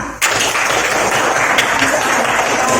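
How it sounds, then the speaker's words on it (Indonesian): Classroom applause for a student group with the correct answer, a sudden onset of steady, fairly loud clapping from many hands that continues evenly to the end. "Tepuk tangan"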